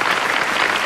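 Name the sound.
applause sound effect from a soundboard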